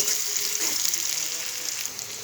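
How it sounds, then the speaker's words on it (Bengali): Sliced onions fry in hot oil with bay leaves, giving a continuous, close sizzle with soft crackles and an occasional stirring scrape, alone without any voices. "আস্তে আস্তে নাড়াচাড়া করে আমি পেঁয়াজটাকে সুন্দর করে একটু ভেজে নিব।"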